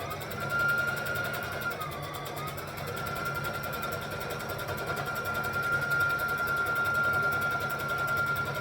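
A sewing machine stitches fabric for a Kwik Sew K4172 pattern, producing a steady, close mechanical whir with a rapid needle clatter that runs continuously and evenly throughout.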